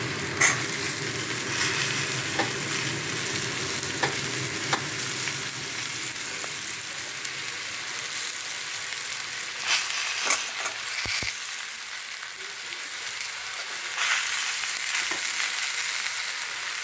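Onion stalks fry with tangra fish in a pan, a continuous sizzle with occasional utensil clicks and stirring scrapes, steady and close.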